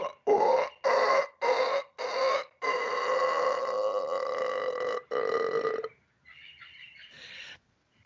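Human voice imitating a howler monkey call: a series of loud, deep, rhythmic guttural bursts, then a sustained roaring stretch and a fainter trailing section, close and clear with no other talk.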